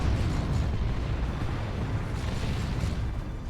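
A Cyclone missile launcher fires in the Warhammer 40,000 strategy game Dawn of War 2, heard as a continuous, heavy explosive rumble and roar that fills the whole stretch at a loud, steady level.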